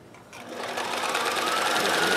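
A Singer 431G or Kenmore 158 sewing machine running a steady chain stitch at about 10 stitches per inch, its close, even mechanical whir building after a brief quiet start and continuing alone.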